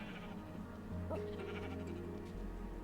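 Sheep bleating in the Minecraft video game, a single short bleat over a steady game background hum, fairly close and moderately loud.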